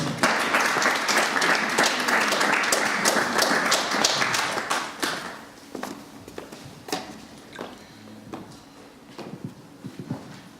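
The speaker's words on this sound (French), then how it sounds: "Sous vos applaudissements, Madame Solence." A crowd at an evening event in Brussels applauds loudly, dense clapping that gradually thins out into scattered claps and a few footsteps or taps.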